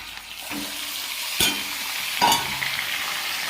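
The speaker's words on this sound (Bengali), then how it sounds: "এরপরে ম্যারিনেট করা চিকেনটা দিয়ে দেবো" Marinated chicken sizzles in a pan with frying garlic and ginger as a spatula scrapes through it in two distinct strokes, over a steady close hiss of hot oil, without any voices.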